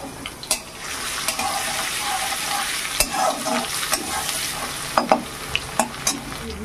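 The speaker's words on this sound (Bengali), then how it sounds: "কড়াই দিয়ে দেবো তেল, সরিষার তেল, ছেঁচে রাখা রসুন।" Crushed garlic frying in mustard oil in a wok, a close steady sizzle with sharp pops and crackles scattered throughout, no voices.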